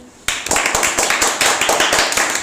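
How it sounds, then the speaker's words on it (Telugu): Schoolchildren in a classroom break into rapid, steady applause that starts abruptly and carries on loud and close to the end, with no talk over it. "అందరూ క్లాప్స్ కొట్టండి."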